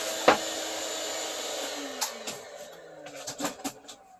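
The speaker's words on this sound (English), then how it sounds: "I'm going to quickly vacuum." A vacuum sucks up sanding dust from the edge of a wooden cheese or bread board, a steady whooshing motor hiss with a few sharp knocks and scrapes of the nozzle against the wood. No one speaks.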